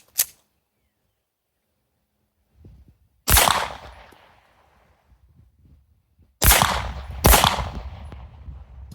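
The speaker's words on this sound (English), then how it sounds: "All right, so 2 shots cycled fine of the Blazer 115" Close, sharp shots from a 9mm comp pistol firing Blazer 115 grain ammunition: an early faint pop, then three loud cracks with echoing decays, the last two in quick succession, with faint outdoor rustling between.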